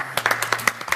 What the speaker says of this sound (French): Commence à applaudir, gros